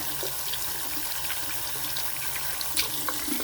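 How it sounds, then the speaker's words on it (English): Hot water pouring steadily from a faucet into a sink at a lapidary workbench, a continuous close broadband rush with faint clinks on top, no talking. "put the stone right underneath the hot water here"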